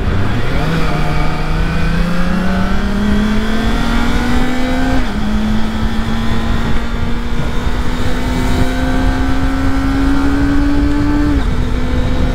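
Kawasaki ZX25RR 2023 four-cylinder motorcycle revving at high RPM with quick shifter and auto blipper, a loud, close, rising engine wail climbing through gears with brief dips at each shift.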